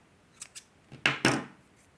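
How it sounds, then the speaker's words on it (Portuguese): Scissors snip through crochet yarn in a couple of quick, close, crisp cuts, preceded by faint small clicks, in an otherwise quiet room. "Agora, eu vou cortar o fio e arrematar."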